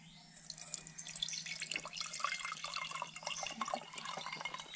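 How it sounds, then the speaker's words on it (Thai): Blue-coloured water made from crushed flowers is poured into a glass, a close, steady trickling and splashing stream with small gurgles and drips lasting several seconds. "ผมขยี้ได้น้ำสีแล้วนะครับแล้วผมจะมาเทใส่ในนี้นะครับ"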